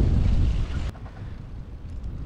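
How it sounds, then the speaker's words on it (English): Strong gusts of wind buffet the microphone on a windy cycling street in Leiden, a loud low roar that drops abruptly partway through and continues as a softer rumble. "we gave up trying to do the on-bike interview because the wind was really gusting"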